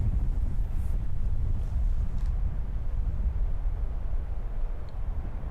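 Strong wind buffets the microphone outdoors on a disc golf course during a tournament, a continuous loud low rumble and roar that holds steady throughout, with no voices.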